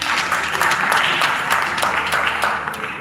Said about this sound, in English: we clap for them better, please.